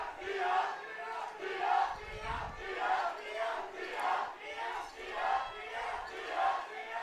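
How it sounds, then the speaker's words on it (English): A high school crowd from Orting cheers at a boys lacrosse championship, rhythmic chanting in regular swells, heard from just above the stands, with a brief low thump partway through. "we have the Orting crowd right below our broadcast position so you can hear them"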